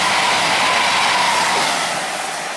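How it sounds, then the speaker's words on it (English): A train roars past nearby on a raised track with a broad, rushing rumble and metallic hiss, loud and steady, slowly easing off toward the end. "There comes a train."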